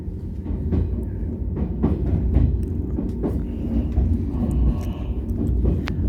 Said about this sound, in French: il y a les rails qui bougent